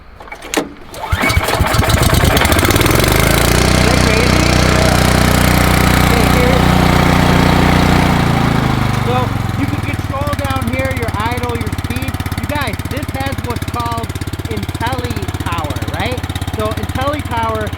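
A fuel-injected Cub Cadet 2X snow blower engine cranks and catches, then roars loudly at high revs before settling into a steady, slightly lower running drone.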